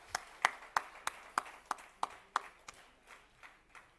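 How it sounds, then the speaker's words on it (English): Scattered applause for a speaker at a business summit, about ten distinct hand claps that begin close and fairly crisp and then thin out and fade, with no talk over them. "Ladies and gentlemen, big round of applause for Mr. Gunnar May."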